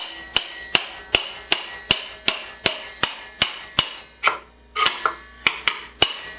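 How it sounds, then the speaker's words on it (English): Carriage bolts are driven down with a hammer in a steady run of sharp, close metallic blows, roughly two per second, with a brief pause and a cluster of quicker strikes near the end. "I'm going to drive them down in with a hammer."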